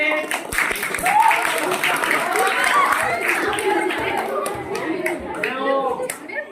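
Scattered clapping from an audience at a magic show under lively chatter and a speaking voice, the claps uneven and continuing throughout.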